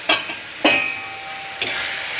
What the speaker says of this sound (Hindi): हल्दी डाल के अच्छी तरह से चलाएंगे।